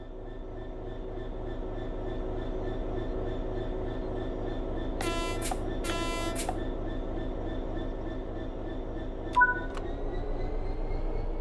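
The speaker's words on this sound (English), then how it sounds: "Apply some throttle to get the train moving." A train in Train Sim World 5 pulls away with a steady low diesel drone and rolling rumble, broken by two long horn blasts midway and a short toot near the end.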